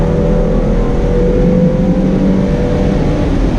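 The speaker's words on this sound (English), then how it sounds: "As we come out of the turn, roll on the throttle" A 2014 Ford Mustang V6 convertible powers out of a turn, its engine giving a steady, loud, close drone with a faintly rising pitch that runs continuously without a break.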